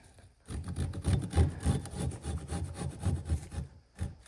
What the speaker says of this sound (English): I'm just going to use my saw.